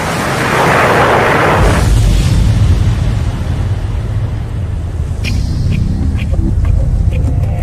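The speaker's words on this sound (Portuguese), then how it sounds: "e quando atingisse o solo haveria uma grande explosão." A big meteor impact explosion: a loud, sustained roaring boom with heavy low rumble that swells early and keeps rolling throughout, with some crackling debris-like bursts toward the end.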